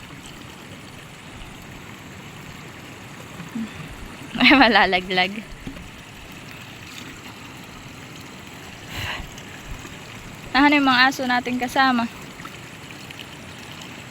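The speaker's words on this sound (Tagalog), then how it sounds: "tubig na yan po, yan pong galing sa bukal na yan" Cold spring water flows steadily at a rural spring while drinking water is collected, a continuous near trickle and splash. Voices talk over it twice.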